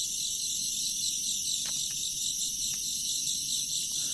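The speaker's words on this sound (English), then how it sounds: "All those crickets in the background were very loud." Crickets in the video game Shinrai chirp in a dense, steady high-pitched drone throughout, loud and unbroken, with a few faint ticks scattered over it and no voices.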